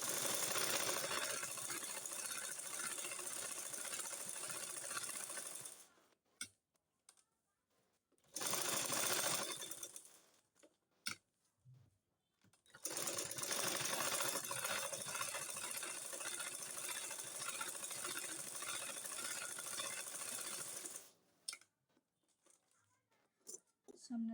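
A sewing machine stitches a burqa in long, fast, even bursts of close mechanical whirring, stopping for quiet gaps with faint clicks and handling noises between runs.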